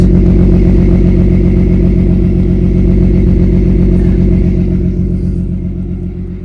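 A car with an old Borla cat-back muffler exhaust drones with a loud, deep, steady note while driving, easing off slightly toward the end.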